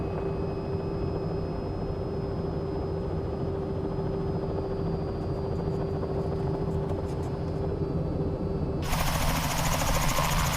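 A simulated helicopter in a flight simulator drones steadily throughout, a constant rotor and engine hum with a sustained whine, growing brighter and louder for the last couple of seconds.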